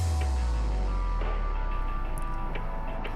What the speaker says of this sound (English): we have this broken down chorus that sounds like this